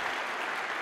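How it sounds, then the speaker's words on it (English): Lecture hall audience clapping, a brief dense burst of applause heard alone at steady volume. "So I think you ought to give him one more round of applause for being here today."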